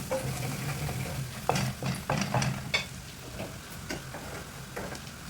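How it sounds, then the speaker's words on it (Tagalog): Garlic sautés in a pan under a low sizzle, broken by spatula scrapes and a few clicking knocks against the pan, heard up close with no talking. "Gisa-gisa lang hanggang sa mag-brown siya konti."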